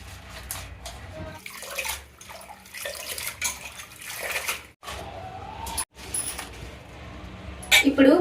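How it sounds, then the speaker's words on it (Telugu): Gongura leaves being washed by hand in water for a pulihora recipe, with continuous splashing, swishing and running-water noise throughout and a brief clatter near the end. "ముందుగా గోంగూరను ఒలుచుకొని శుభ్రంగా కడిగి పక్కన పెట్టుకుందాం"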